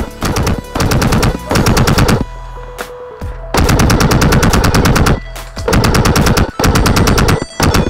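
Lancer Tactical MMC recoiling airsoft electric gun fires on full auto during outdoor gameplay, several loud, rapid rattling bursts separated by short pauses.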